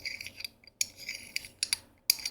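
Short, faint metallic scrapes and clicks come from unscrewing the pommel of a Neopixel lightsaber hilt, in a few quick, separate bursts with quiet gaps between them.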